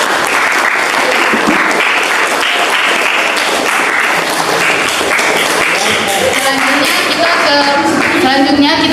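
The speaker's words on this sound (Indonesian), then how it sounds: "mari kita tepuk tangan untuk kita semua." Sustained applause from a class of students in a high school classroom, steady dense clapping filling the whole stretch with voices and cheers mixed in toward the end.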